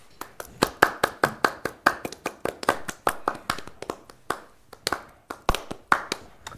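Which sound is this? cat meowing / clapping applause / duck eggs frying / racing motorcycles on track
clapping applause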